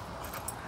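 A dog gives a brief, faint whimper, a short high whine close by against a quiet room background.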